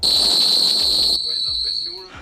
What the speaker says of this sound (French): Un haut-parleur qui propulse un son strident à 130 décibels